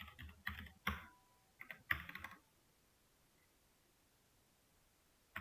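Keys on a computer keyboard pressed for a Ctrl+Space shortcut while coding in Java, a few quick clustered clacks in the first two and a half seconds, then near silence with one last click at the end.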